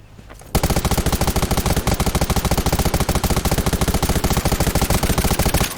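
Rapid sustained automatic gunfire from the video game Undawn, a loud, dense stream of evenly spaced shots that bursts in after a brief quiet moment and continues steadily to the end, with no voices.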